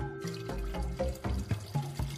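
A stream of running water flows steadily and close by, a continuous splashing gurgle with no voices over it.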